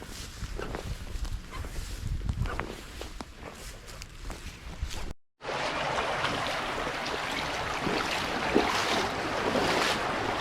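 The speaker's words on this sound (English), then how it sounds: "I've never been here with this much water flowing," A strongly flowing inner-city creek rushes with a continuous broadband roar, loud and close, cut by a brief dropout midway; footsteps and movement blend faintly into the steady water.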